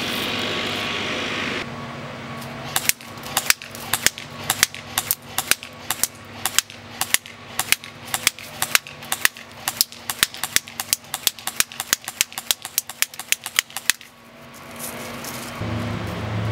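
King Arms Colt M4 airsoft carbine firing semi-auto at a target about 75 feet away, a rapid string of sharp single snapping shots in quick succession, loud and close, over a low background hum.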